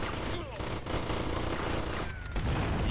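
Dense, rapid gunfire in GTA: Vice City Stories, shots overlapping in loud bursts with brief gaps, under a busy backdrop of effects.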